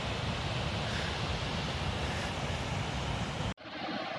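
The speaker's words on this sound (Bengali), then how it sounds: "তীব্র বেগে ঝর্ণার জল এসে পড়ছে" Waterfall water pours down forcefully in the Himalayan mountains of Himachal Pradesh, a continuous, dense roar that cuts off abruptly near the end and then returns more quietly.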